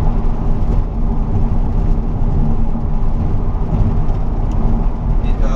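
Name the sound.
BMW 535d E61 estate car driving on a bumpy road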